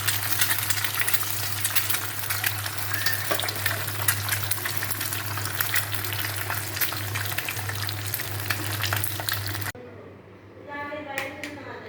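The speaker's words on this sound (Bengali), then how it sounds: "আমি পাশে একটা ডিম ভাজবো" An egg sizzles steadily in a pan beside a pot of khichuri, a dense continuous frying hiss over a low, constant hum, broken near the end by a brief voice as the hiss drops away.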